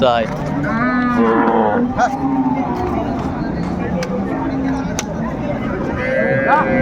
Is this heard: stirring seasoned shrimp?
no